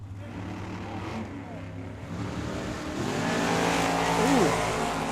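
A Super Gas Roadster and a Plymouth drag race at Tucson Dragway, engines roaring and swelling louder as the cars run down the track, with a rising whine near the end under crowd and announcer noise.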